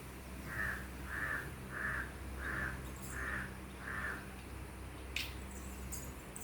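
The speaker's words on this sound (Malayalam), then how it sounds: "അവിടെ കാക്ക വന്ന് തെങ്ങി വന്ന് നോക്കിയിരിക്കുക" A crow perched near a coconut tree caws six times in a steady, evenly spaced series, moderately distant over a constant wash of rain, with a few faint clicks near the end.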